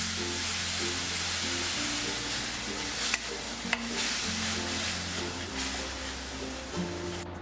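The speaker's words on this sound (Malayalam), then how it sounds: "ഈ എടുത്തു വെച്ചിരിക്കുന്ന പൊടികൾ ഇതിലേക്ക് ചേർത്ത് വഴറ്റി കൊടുക്കാം" Spice powders and tomato paste sautéing in a pan for vegetable kurma, a steady close sizzle with occasional stirring scrapes, underneath a continuous background of melodic instrumental music.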